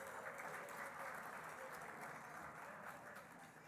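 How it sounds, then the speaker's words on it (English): Steady applause from a luncheon crowd honoring labor unions, including the United Auto Workers, continuous and fairly even throughout with no clear break or peak. "Give them a round of applause."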